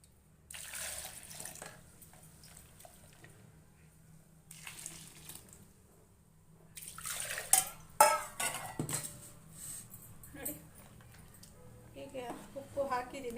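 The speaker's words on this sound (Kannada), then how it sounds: "ಇದಕ್ಕೊಂದು ಸ್ವಲ್ಪ ಮಿಕ್ಸಿ ಜಾರಿಗೆ ನೀರು ಹಾಕ್ಬಿಟ್ಟು ಅದನ್ನು ಸೇರಿಸ್ಕೊಳ್ಳೋಣ" Water is swirled in a mixer jar and poured into a simmering chickpea sambar, with clinking of steel vessels and spoons in short bursts and splashes, heard alongside speech in a home kitchen.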